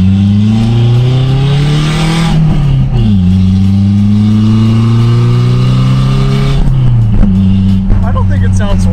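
Toyota Tacoma engine with a modified, downward-pointing exhaust giving a diesel-like tone, heard from inside the truck as a loud steady drone with rising revs, a dip and a second climb, rattling slightly throughout.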